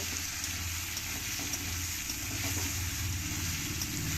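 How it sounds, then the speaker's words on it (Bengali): Potatoes fry in hot oil alongside rohu fish, giving a steady, soft sizzle and crackle that stays even throughout, fairly quiet and close with no voices. "এই একই সঙ্গে আলুটাকেও আমি ভেজে নেব"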